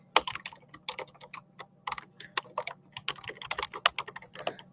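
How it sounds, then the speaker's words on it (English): Fingers type on a computer keyboard in a quiet room, a steady run of close, crisp key clicks in uneven bursts with brief pauses, over a faint low hum. "What are you typing?"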